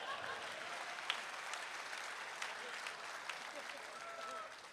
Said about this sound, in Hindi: ताली तो जोर से बजा दो।